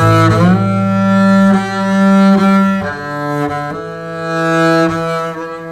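A jazz double bass strung with multi-filament strings, its fine plastic-like strands bundled together, plays a series of ringing, open sustained notes that change about once a second and sound close and clear with no talking.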